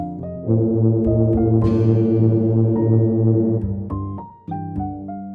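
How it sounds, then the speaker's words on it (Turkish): A deep ship horn sounds a long sustained blast, then a few shorter, higher tones follow, clear and unaccompanied. "Gemiler böyle ses çıkarırlar."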